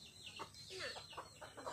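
Chickens forage outdoors on a farm, giving a run of soft, close clucks and short squawky calls in a steady, irregular rhythm over faint background noise.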